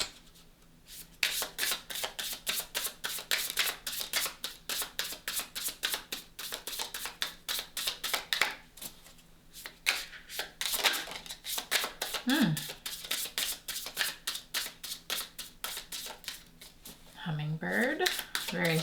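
A deck of tarot cards being shuffled, a quick run of crisp riffling flicks that repeats steadily for most of the stretch, close and moderately loud, with a voice talking over it near the end.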